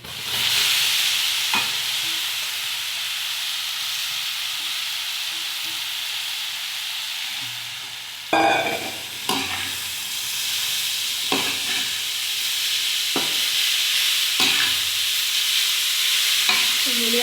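Radish pieces with a little turmeric sauté in a pan with a steady, loud sizzle. About halfway through, the stirring starts, with repeated scraping clacks of a spatula against the pan. There is no talking.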